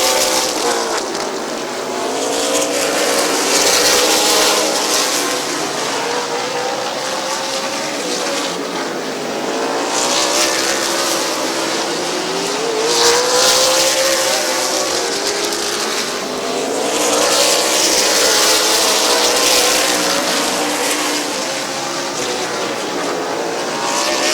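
Race cars roaring around the oval at Midvale Speedway, engines loud and continuous with repeated rising and falling passes as the pack sweeps by, no voices over them.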